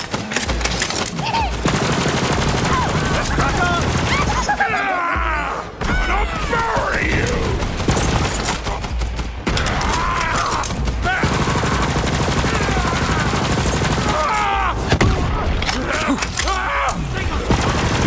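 A corrosive gun fires in sustained rapid bursts in Borderlands 3 during a fight with the Warden boss, loud and near, with impact thuds, effects and someone talking over it.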